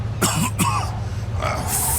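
A man coughs twice in quick, harsh bursts over a steady low hum, in the video game Mafia II: Definitive Edition.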